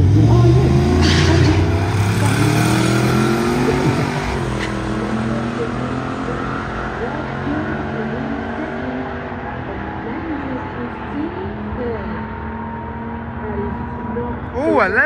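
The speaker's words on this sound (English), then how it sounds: "Lots of wheel spin at the start." Bagged Ford Falcon FG launching on a drag strip with wheel spin, a loud engine roar with rising and falling revs that fades as the car pulls away, with voices talking over it.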